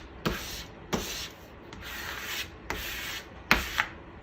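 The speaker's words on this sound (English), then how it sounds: "I'm going to take my squeegee and I'm going to burnish the front" A squeegee is rubbed firmly across vinyl transfer tape in a Cricut craft project, giving five or six short, close scraping strokes with brief pauses between them, alone without talk.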